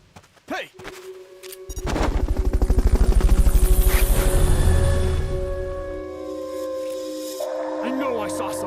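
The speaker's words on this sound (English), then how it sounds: "Fulton recovery helicopter is complete." The Fulton recovery helicopter in the video game Metal Gear Solid Peace Walker arrives as a loud, steady rotor thump that swells and then slowly fades, with game tones before it and a rising chime at the end.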